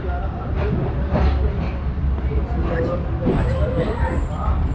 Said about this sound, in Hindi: अभी हमारी ट्रेन रुकने वाली है।